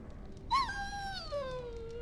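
A dog in the fantasy video game Dragon Age: Origins gives one rising yelp that stretches into a long, falling, mournful howl-whimper, close and moderately loud over a quiet game background.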